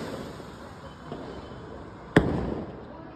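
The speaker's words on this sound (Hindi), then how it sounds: "बढ़िया फट रहे हैं भाई। अच्छा फट रहे हैं ना।" Lunik Express firework rockets launched outdoors during a Diwali celebration: a faint pop, then one sharp, loud crack bursting over steady background hiss.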